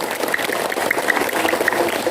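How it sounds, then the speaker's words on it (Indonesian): Students and teachers applaud at a school Heroes' Day ceremony at SMP Negeri 3 Gading, a steady, dense clapping that runs through the whole moment at moderate loudness with no talk over it. "Tepuk tangan untuk kalian semua."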